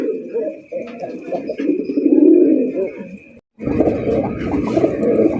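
A male Golla pigeon, a colored rasgolla-type breed, gives a deep, loud roaring coo at a farm. The calls come close and sustained, with a short silent break before they resume.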